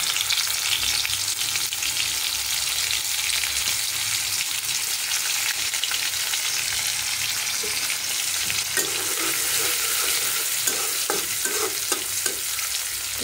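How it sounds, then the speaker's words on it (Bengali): Whole spices and bay leaf frying in oil for a duck curry, a steady close sizzle with occasional stirring clinks and scrapes toward the end. "লাল লাল করে ভেজে নিব"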